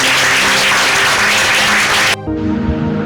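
A church congregation gives loud, sustained applause after a sermon, a thick continuous roar of clapping that cuts off abruptly near the end, leaving a quieter tone.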